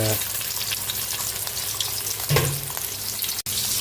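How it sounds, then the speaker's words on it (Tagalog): Tilapia frying in hot oil, a steady loud crackling sizzle with brief bursts of spattering. The frying continues without pause over a few seconds, close up. "Check natin yung ating pritong tilapia"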